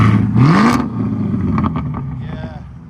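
A straight-piped Cadillac CT5-V exhaust gives one quick rising rev close by, then drops back to a rough, throaty idle rumble over about three seconds.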